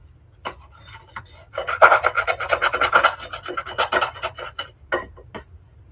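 Soft, smooth cinnamon roll dough is scraped out of the bottom of a mixing bowl, a close, steady run of rasping scrapes that builds up and then tapers into a few separate strokes.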